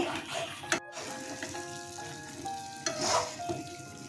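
Egg korma with yogurt being stirred on low heat, gentle bubbling and faint sizzle with a couple of soft scraping bursts of the spoon, close but quiet, with a faint tonal hum in the background and no speech.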